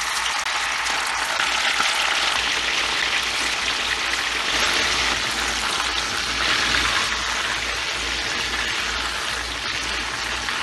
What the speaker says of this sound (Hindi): अब हम फ्राई करेंगे।